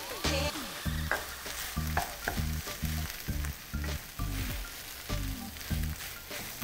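Eggs sizzle and fry in a pan of spicy tuna fried rice with chili, with repeated rhythmic stirring scrapes over a steady loud hiss and no talking.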